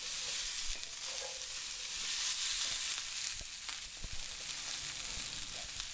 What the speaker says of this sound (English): here is cooking on the stove